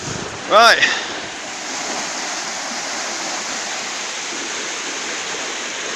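Continuous rushing water fills the air as a UK canal lock chamber empties beneath a narrowboat, with a brief knock near the start before the broad, steady roar carries on alone.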